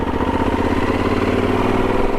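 A motorcycle engine runs steadily while riding on roads toward downtown Miami, a loud close continuous drone with a low rhythmic throb and no voices.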